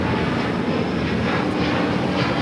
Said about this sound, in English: we do also have the Delta A350 taking off to Atlanta